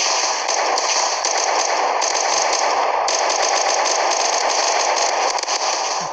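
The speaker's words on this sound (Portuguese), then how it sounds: "Aqui tem aqui a minha metralhadora aqui" Machine gun fire in the video game Mask GU rattles in fast, continuous bursts, loud and dense for the full stretch with brief breaks between volleys.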